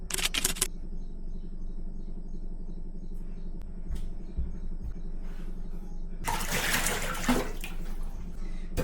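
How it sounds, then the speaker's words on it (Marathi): Water runs from a tap while dishes are washed at home, a steady rush throughout with louder splashing bursts at the start and near the end. "आता भांडी धुवायला लागू"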